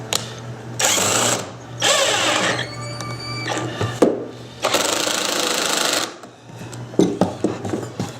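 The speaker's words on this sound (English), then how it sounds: "So now it's just a matter of putting a few screws in." A power driver runs screws into the wooden frame of a homemade belt sander in a few loud, whirring bursts of a couple of seconds each, with quieter clatter and handling noise between them.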